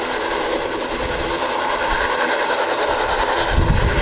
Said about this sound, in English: So this one is the ATR in flight NZ5359 going to Christchurch.